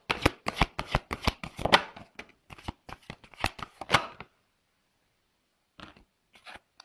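Tarot cards are shuffled close up in a quick run of crisp riffling snaps and flutters, pausing briefly before a few softer shuffles at the end; no one speaks.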